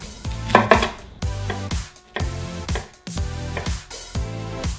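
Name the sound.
knife chopping onion finely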